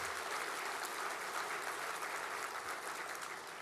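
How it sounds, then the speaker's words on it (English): Audience at a live National Philanthropy Day show applauding Maria Hall Brown, a dense, even wash of many hands clapping together, steady and distant in a large room, with no voices over it. "How about a nice round of applause for Maria Hall Brown"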